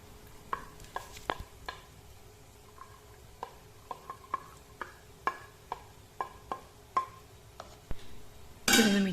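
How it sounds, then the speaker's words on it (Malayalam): Spoon stirring onions with ginger and garlic in a pan for a mackerel chili curry, a string of sharp clinks and scrapes in an irregular rhythm over a faint sizzle, close up, ending in a louder burst. "സവാള കുറച്ചൊന്ന് വഴന്നു വന്നിട്ടുണ്ട്. ഇതിലേക്ക് ഇഞ്ചിയും വെളുത്തുള്ളിയും കൂടെ ചേർത്ത് കൊടുക്കുക."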